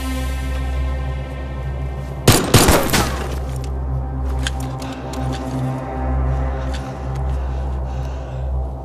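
A fleeing terrorist fires in a jungle: a sudden loud, crackling burst of rapid shots rings out, then fades into scattered sharp ticks against a steady low background hum.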